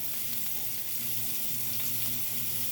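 Minced garlic frying in a pan sizzles steadily and loudly, a continuous hiss with soft scraping from stirring underneath.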